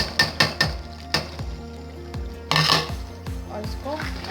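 A spoon scrapes and clanks around a pan of frying minced meat, tomatoes and broad beans, with several sharp metallic knocks and a soft sizzle underneath, close and loud.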